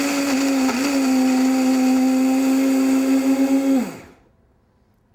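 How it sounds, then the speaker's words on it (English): A Vitamix Series 200 blender running on high, grating Parmesan cheese: a loud, steady motor whine holds for about four seconds, its pitch dipping briefly early on, then spins down and cuts to near silence. "I'm going to pour my bowl of cheese directly into my blender, make sure that lid is secure"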